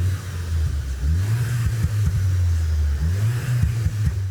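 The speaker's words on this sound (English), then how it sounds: "the speakers push out this synthesized exhaust note into the cabin" A steady low synthesized exhaust note played through the cabin speakers of a 2026 Skoda Octavia vRS, with a slightly wavering pitch, rising and settling like mild revving, heard from inside the car with no talking.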